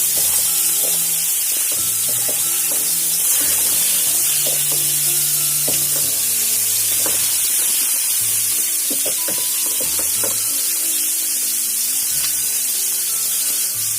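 Marinated fish pieces fry in hot oil for fish molee, producing a loud, dense, continuous sizzle with light crackles and stirring noises and no talk.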